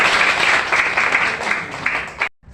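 Dense audience applause with many hands clapping at once, steady for about two seconds before cutting off abruptly.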